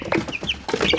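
Short, close peeping and clucking calls from small chickens, a few chirps in quick succession within a second.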